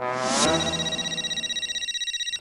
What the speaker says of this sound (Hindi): अरे माधवी का फोन